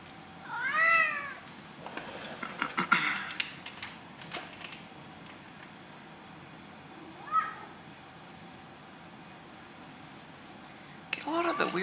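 A cat meows several times in a quiet indoor room, with rising and falling calls spread across the stretch, a couple close and clear, others fainter, amid light handling noises.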